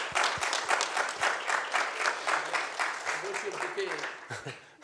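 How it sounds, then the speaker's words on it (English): Audience at a surgery and interventional science student research symposium claps steadily and loudly for a speaker named Sean, a dense, continuous burst of applause that thins out toward the end. "Let's have a special round of applause for Sean."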